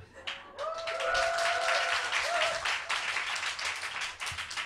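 Audience applause at a live Korean political talk-show taping, a steady wash of clapping sustained for several seconds, with faint tonal sounds running over it early on and a brief voice near the start.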